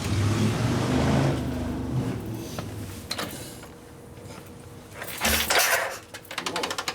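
A 1974 Harley-Davidson Shovelhead 74ci bobber engine cranks and catches, running loudly up close for a couple of seconds, then a lull with clanks and a sharp burst of revving and rattling toward the end.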